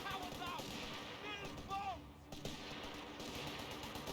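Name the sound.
gunfire in the video game Company of Heroes 3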